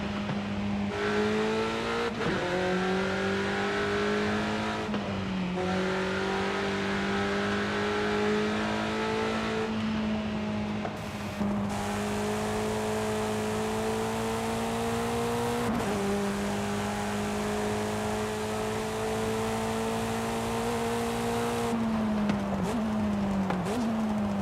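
Sustained car engine revving in the Forza Horizon 5 racing game, holding a steady high pitch that climbs and drops with gear shifts and brief lifts, loud and continuous with no talk.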